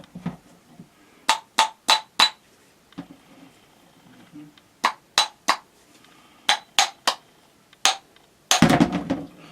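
Sharp metallic masonry hammer taps ring out in quick clusters of three or four, close and loud, ending in a rougher, longer scrape, during a Kawasaki ZX10R oil change.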